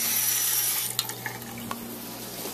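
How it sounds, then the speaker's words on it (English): Water pours into a pan of burrito filling, a steady bright rush followed by a few small splashes and clinks at moderate loudness. "you want to add in just a little bit of water, just a little bit, just enough to make a kind of sauce"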